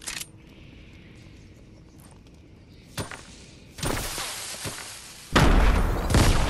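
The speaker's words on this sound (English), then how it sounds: "That was a good nade" Fortnite gunfight audio with a grenade going off: a quiet stretch with small pops, then sharp booming blasts and bursts that grow louder toward the end, the last one the heaviest.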